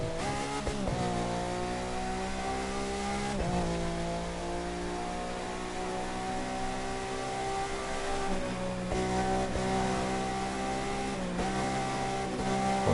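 A car engine revving in the racing video game The Crew 2, a sustained, loud engine drone that rises and falls with several gear-shift dips and surges, continuous with no talk.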